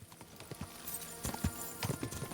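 Horse hooves clip-clopping in the video game Kingdom Come: Deliverance II, a steady run of soft thuds with a few louder steps near the end, heard over a low background bed.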